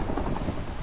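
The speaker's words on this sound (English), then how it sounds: "And now it's raining." Steady rain with a low thunder rumble in a video game, a continuous dense wash of sound with no voices.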